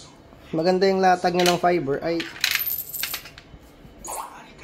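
Coins drop into a coin-operated Wi-Fi hotspot vending machine, giving a few clinking metallic hits and rattles after someone speaks, and a faint clink near the end.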